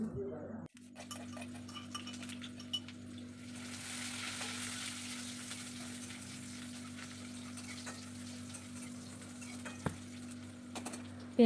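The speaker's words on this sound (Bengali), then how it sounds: "পেঁয়াজগুলো ভাজা হয়ে গেছে" Onions frying in oil in a home kitchen, a steady soft sizzle throughout with occasional clinks of utensils against the pan and a constant low hum in the background.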